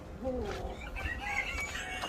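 A broody hen clucks and calls nearby in a short burst, with faint background noise and no speech.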